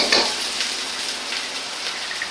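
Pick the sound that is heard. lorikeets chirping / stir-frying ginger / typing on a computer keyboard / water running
stir-frying ginger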